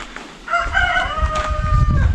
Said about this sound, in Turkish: Evet, sesini duydunuz. Artık horoz uyandırıyor sabahları bizi.